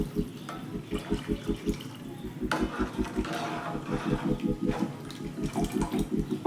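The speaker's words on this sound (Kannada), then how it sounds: "ಇಷ್ಟು ಮಿಕ್ಸ್ ಮಾಡಿಕೊಂಡ್ರೆ ಇವಾಗ ನೀರು ಹಾಕೋತಾ ಇದ್ದೀನಿ" About a litre of water is poured into a cooking pot for rasam, a steady gurgling stream with a rhythmic pulsing flow and a few louder surges, no voices.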